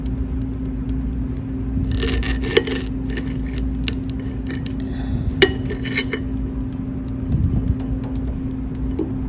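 A banana is cut on a plate, with bursts of knife scraping and clinks against the plate over a steady low hum, close up and without talk.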